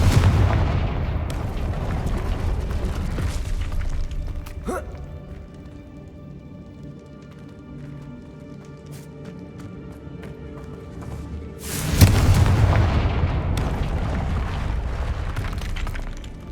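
Fire-blast spell explosions in Hogwarts Legacy, heavy blasts at the start and again around twelve seconds, each bursting loud with a crackling, shattering tail over a low rumbling background.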